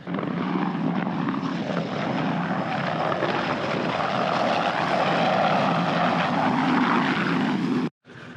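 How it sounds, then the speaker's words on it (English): Helicopters fly in near Dundee Beach in Australia's Northern Territory, a loud, steady rotor roar close by, a dense throbbing drone that continues unbroken before cutting off abruptly at the end. "Speak of the devil, and the helicopters are coming in."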